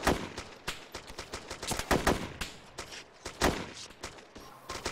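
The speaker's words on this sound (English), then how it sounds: "They have heavy machine guns." Heavy machine gun fire in the video game Arma 2, loud rapid bursts of gunshots cracking in quick irregular volleys across the whole stretch, with no talk.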